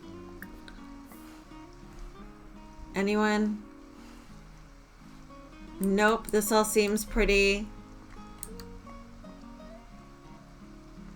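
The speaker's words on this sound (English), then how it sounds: "But it's raining, which is exciting." Rain falls outdoors at 5:30 in the early morning near sheltering bushes, a steady soft patter running throughout beneath a person speaking in two short bursts.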